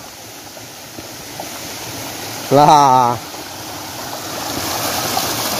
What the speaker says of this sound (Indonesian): Wow, ada air terjun mini lagi.